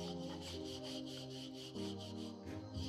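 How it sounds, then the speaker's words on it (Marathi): Dough for puran kanole being rolled into a small round with a rolling pin, a steady close rubbing and rolling sound repeating in even back-and-forth strokes over a low background hum, with no talking. "अशा प्रकारे आपल्याला एक पारी लाटून घ्यायची आहे"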